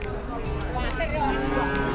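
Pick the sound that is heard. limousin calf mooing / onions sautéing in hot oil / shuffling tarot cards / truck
limousin calf mooing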